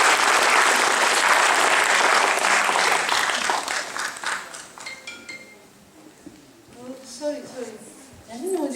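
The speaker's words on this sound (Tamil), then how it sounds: "நாங்கள் ஒரு கைத்தட்டல் கேட்கிறோம்" An audience applauds at a Tamil school's tenth-anniversary celebration: dense, loud clapping fills the room, then thins and fades while voices and scattered chatter rise beneath it.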